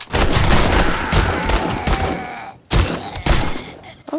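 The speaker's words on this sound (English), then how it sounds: "We have a gun. Let's use it." Gunfire rattles from a gun in 7 Days to Die, a dense, loud burst of rapid shots that carries on for a couple of seconds, breaks off briefly, then resumes with more sharp volleys.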